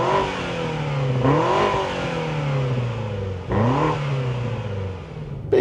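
A 2025 BMW M5 Touring engine revs hard twice, each blip climbing sharply then falling back to a steady idle hum, close and loud with no talk.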